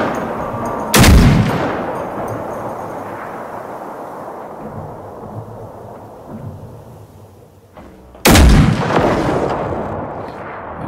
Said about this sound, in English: Got a rail gun.